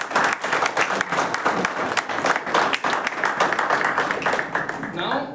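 A Toastmasters installation ceremony audience breaks into sustained applause, many hands clapping densely and evenly for several seconds, with crowd voices mixed into the clapping.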